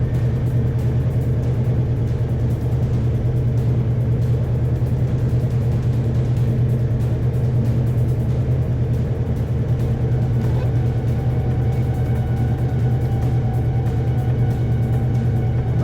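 A 1972 Plymouth Roadrunner V8 idles high and steady, a loud, continuous low rumble holding one even pitch with no voices over it.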